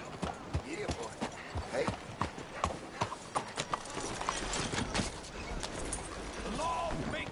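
Horse hooves clip-clop in Red Dead Redemption 2, a quick, uneven run of close, sharp hoofbeats that settles into a smoother rumble toward the end, with a voice speaking briefly over it.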